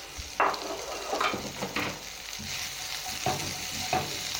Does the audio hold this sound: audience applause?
no